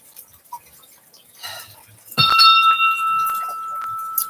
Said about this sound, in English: You didn't like my bell.